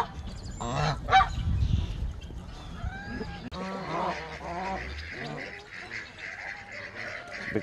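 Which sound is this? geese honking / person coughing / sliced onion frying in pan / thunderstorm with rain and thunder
geese honking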